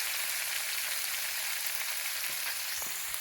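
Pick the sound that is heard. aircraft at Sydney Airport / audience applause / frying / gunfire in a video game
frying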